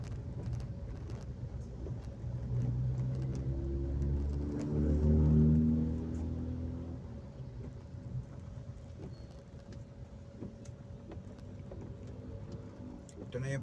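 Road traffic heard from inside a car near the malls at Aseana, a steady low rumble and drone of engines and tyres with a swelling passing-vehicle roar midway, under occasional talk.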